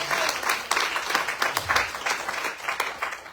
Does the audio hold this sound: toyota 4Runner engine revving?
no